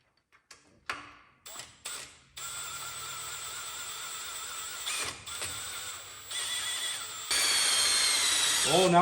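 A power drill spinning the oil pump of a Buick 350 engine whirs steadily and close, starting with a few short bursts and then running continuously, its pitch and loudness rising in steps.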